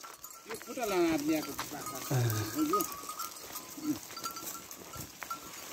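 Sheep and goats being herded to the forest give a few wavering bleats, one loud and close, while someone talks over them outdoors.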